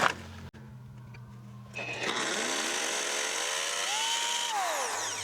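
A power drill whines steadily into a concrete wall, its pitch rising and bending as it bites in, after a brief quieter start.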